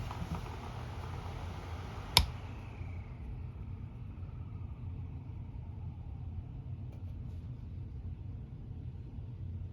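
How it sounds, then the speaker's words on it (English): A 1990s Lasko 6-inch clip fan is switched off with a sharp click, then its motor whine glides downward and fades away over a steady low hum. "Okay, we'll do our spin down."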